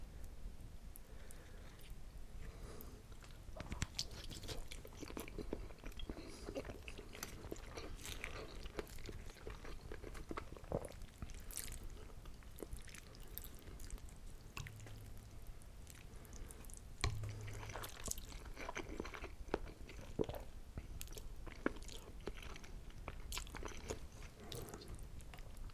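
Close, quiet chewing of takeout ramen with egg and pork belly, soft crunchy bites and wet squishy mouth sounds running steadily with no talking.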